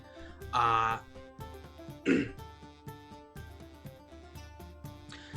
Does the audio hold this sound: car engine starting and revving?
no